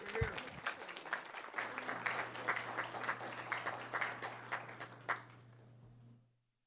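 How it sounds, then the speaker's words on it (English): Applause from the room at a city council meeting, a round of steady clapping with a low hum underneath and some voices, fading out quickly at the end. "A round of applause, please."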